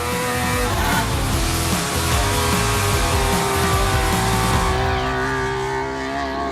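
A racer-style classic Trabant, a small two-stroke car, buzzes hard around a track, its engine note holding loud and steady with shifting harmonics before easing slightly at the end, no voices.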